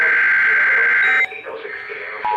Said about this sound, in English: That just beeped!